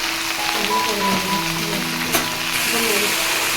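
Chopped taro frying in a pan with crushed garlic and salt, being stirred, gives a steady close sizzle with a few scraping stirs.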